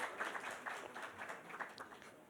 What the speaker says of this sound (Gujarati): તાળીઓના ગુંજારો સાથે આપણે આ ક્ષણને વધાવીએ.